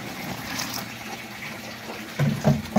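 Ten litres of cold water poured into a soap-making mix of used cooking oil, a continuous splashing gush with heavier sloshes near the end, close and fairly loud.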